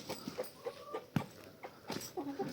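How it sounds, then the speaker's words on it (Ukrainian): A rooster clucks and calls in short bursts nearby, with some soft background noise and an occasional faint bark. "Ох, який півень, курку клич"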